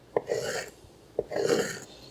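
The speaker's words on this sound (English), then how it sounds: "So all you do now is try to dice your mango" A knife dices a very ripe mango, giving two short crisp cuts each followed by a wet rasping scrape, close and fairly quiet, with no talking.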